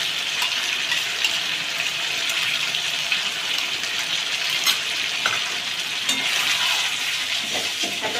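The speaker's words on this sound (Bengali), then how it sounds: "ফ্যাটানো টক দইটা দিয়ে ভালো করে মিশিয়ে নেব" Cauliflower roast with beaten sour yogurt being stirred in a pan, giving a steady loud sizzle and frying hiss throughout, with scraping stir strokes and a few soft clinks, no talking.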